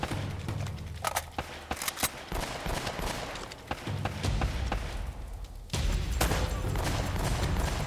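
Rapid gunfire rattles through a firefight in the video game Uncharted: Drake's Fortune, with quick shots and thuds in uneven clusters, moderately loud and close, and a heavier burst of fire near the end.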